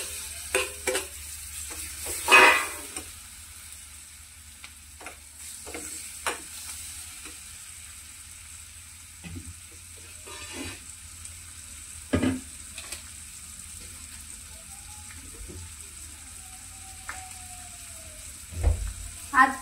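Chopped tomatoes fry in a pan while being stirred, a soft sizzle with scattered scraping clinks of the spoon at irregular moments, close but fairly quiet.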